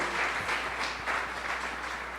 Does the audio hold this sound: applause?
yes